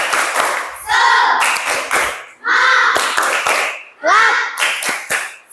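Classroom students clap together in a rhythmic 'tepuk semangat' pattern, with short bursts of sharp claps alternating with chanted group voices in a repeating cycle.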